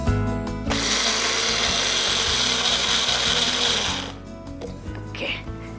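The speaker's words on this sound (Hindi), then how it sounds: "मूंग दाल बहुत ही आसानी से ग्राइंड हो जाता है" A kitchen mixer grinder whirs loudly as it grinds soaked moong dal with ginger, a dense high whine that runs for about three seconds and then winds down and stops.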